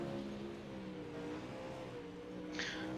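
Late model race cars circling Lanier Speedway, a steady sustained engine roar with layered tonal drone from several cars at mid distance, continuous and loud with a brief high squeal near the end.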